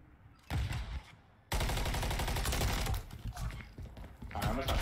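Rapid weapon fire in a first-person shooter game, a short burst followed by a longer sustained volley of loud, dense shots, with players' voices mixed in.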